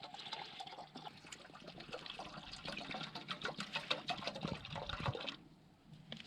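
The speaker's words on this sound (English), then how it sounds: "Let's go ahead and fill the containers." Water poured into 500-milliliter containers outdoors at a mountain campsite, a close splashing, gurgling fill that builds and then stops near the end, with no talk over it.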